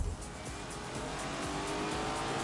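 A Lamborghini race car with a rear-mounted V8 roars in The Grand Tour video game, a loud continuous engine drone with hissing tire and road noise, steady throughout with no voices.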